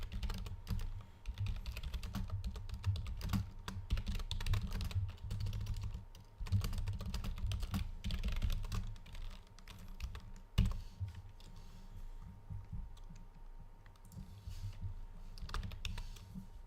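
A computer keyboard is typed on in long, busy bursts of clattering keystrokes with brief pauses, fairly quiet over a low room hum and a faint steady tone, with no voices.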